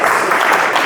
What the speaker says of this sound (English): Give him an applause for the question.